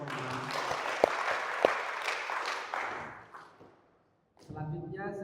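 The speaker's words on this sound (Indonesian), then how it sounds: "kita tepuk tangan untuk Romo." An audience at an Indonesian religious formation gathering in Makassar applauds for a priest, a few seconds of steady clapping with a couple of sharp thumps, fading to silence before a voice starts speaking.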